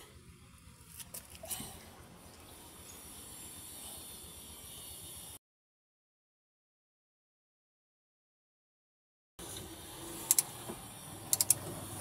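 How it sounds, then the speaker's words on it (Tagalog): A torque wrench with a 30mm socket works loose a nut on a Mitsubishi Mirage G4 during brake service, giving soft mechanical rasping and a few sharp clicks near the end, broken by a stretch of silence. "Tapos ay gamitan natin ng 30mm na socket para to mabuksan. Gamit yung ating torque wrench."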